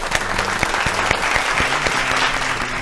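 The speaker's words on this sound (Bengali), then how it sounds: "জোরে হাততালি একটা প্রকৃতির জন্য।" Studio audience on a family game show breaking into loud, close applause, a dense, even clatter of clapping hands lasting the whole moment.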